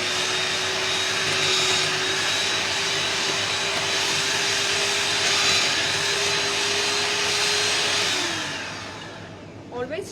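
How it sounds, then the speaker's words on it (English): Electric hand mixer beating butter until creamy for cookie dough, a steady loud whirring drone held for about eight seconds before it winds down and cuts off near the end. "till the butter is become creamy, you have to beat it, and I will do one more beating"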